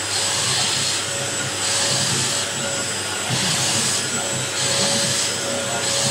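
A Polti steam cleaner with vacuum runs close and loud in a steady roaring whine, its pitch and airflow shifting slightly as the nozzle moves over a surface.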